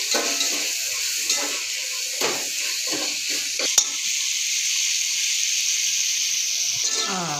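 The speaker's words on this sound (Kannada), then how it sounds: "ಟೊಮೊಟೊ ಈರುಳ್ಳಿ ಎಲ್ಲ ಚೆನ್ನಾಗಿ ಸಾಫ್ಟ್ ಆಗೋ ಥರ ನೀಟಾಗಿ ಫ್ರೈ ಮಾಡ್ಕೋಬೇಕು." Tomato and onion frying for mutton biryani, a continuous close sizzle and hiss with occasional clinks of stirring, no voices over it.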